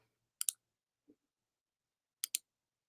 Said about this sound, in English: I'm like clicking around here.